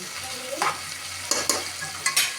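Onions softening in a hot pan, a steady sizzle broken by a few brief scraping stirs, close and fairly loud.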